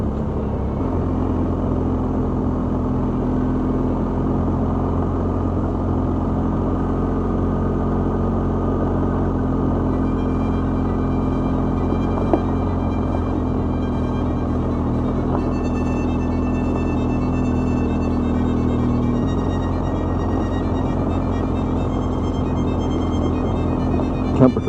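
A car in second gear rolls along a dirt road in rural Ohio. The engine gives a steady, close, low rumble that barely changes throughout, with faint crunches from the road surface and no voices.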